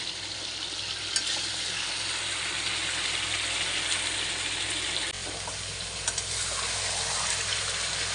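Spiced meat curry (kosha mangsho) stirred in a pan, a steady, close, unbroken sizzle with a soft scrape or two partway through and no talking.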